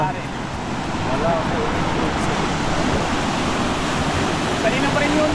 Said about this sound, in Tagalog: Pero okay lang dan, malakas alon.